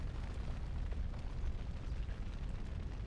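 A giant wall of fire roars in Dragon Age, a dense low rumbling blaze that is continuous and steady, fairly faint, with no other sounds over it.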